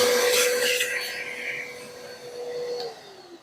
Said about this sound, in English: We'll give it a quick hoover out so it don't go rusty for the next owner.